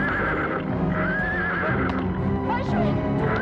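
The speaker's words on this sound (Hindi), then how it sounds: "इस घोड़े को क्या हो गया?" A horse neighs loudly and repeatedly up close, with long whinnies over hoof clip-clop and frantic shouting voices throughout.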